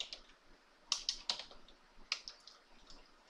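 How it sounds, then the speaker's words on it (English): Computer keyboard keys clicked in a short, uneven burst of quick taps, fairly faint and close, with no voices. "you can click to just type simply underneath the picture"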